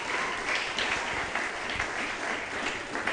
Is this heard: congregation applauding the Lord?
yes